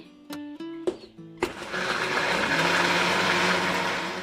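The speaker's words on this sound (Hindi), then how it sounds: "अब हम इसको दोबारा ग्राइंड कर लेंगे।" A blender grinds peach juice with Sprite and ice, starting after a run of short electronic beeps and then settling into a loud continuous whirring roar, with no one speaking.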